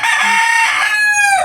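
A chicken gives a loud, close, drawn-out squawking call, a single strident vocalization lasting about a second and a half with no other sounds.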